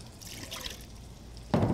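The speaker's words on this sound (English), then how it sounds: "I'm going to place some red potatoes in the cooker. Cover with water." Water is poured over red potatoes in a Delimano pressure cooker, a soft trickle building into a sudden louder gush near the end, close and brief.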